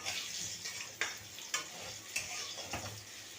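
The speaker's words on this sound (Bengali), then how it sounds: "এবার একটু ভালো করে নাড়িয়ে নেব" Cabbage curry with turmeric and salt sizzles quietly in a pan while being stirred, with a few distinct scraping strokes of the spoon over a faint, steady frying hiss.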